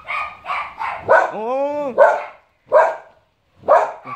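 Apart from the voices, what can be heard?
dog barking at an iguana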